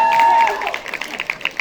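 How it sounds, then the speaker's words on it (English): Applause and cheering from a comedy-magic show audience swell after a tonal note, with a crowd's dense clatter of claps and some voices running steadily through the moment. "Yeah, you can applaud that"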